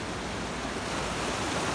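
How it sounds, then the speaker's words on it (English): Ocean waves crash on the shore at Rosarito, Mexico, making a steady, loud, broadband roar of surf that runs without pause and has no voices over it. "waves are coming in hard today. They're a little bit bigger this morning than they are now."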